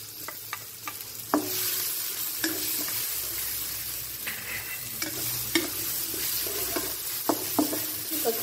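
Chili and garlic stir-fry in hot oil in a pan, a constant crackling sizzle punctuated by scraping clinks of a spatula stirring at uneven intervals, close up with no talking.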